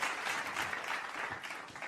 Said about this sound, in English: let's give everybody, including yourself, a round of applause